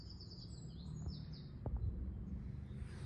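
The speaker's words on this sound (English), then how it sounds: "There's a raven calling in the background." A raven calls faintly in the distance on a countryside walk toward a coastal cove, while thin, high chirps from smaller birds such as chiffchaffs drift over a quiet outdoor backdrop.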